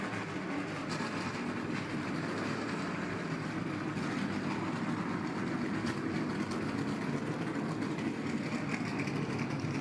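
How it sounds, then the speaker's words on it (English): Race truck engines start up and rumble together at Dover International Speedway, a dense, steady roar of many engines filling the air at moderate distance with no talking over it. "Drivers, start your engines!"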